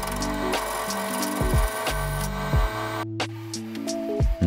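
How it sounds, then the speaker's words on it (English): An old metal lathe runs steadily while a cutting tool faces a part, scraping across the workpiece with repeated rising and falling whines and clattering chatter, loud and close. "And back in the lathe to face it."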